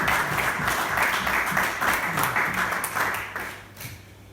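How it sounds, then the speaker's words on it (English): An audience claps for a comedian after a supper, a broad steady wash of applause from many hands lasting about four seconds before fading away. "Come on, round of applause."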